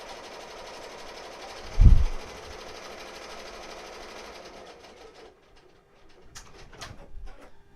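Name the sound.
embroidery machine stitching a design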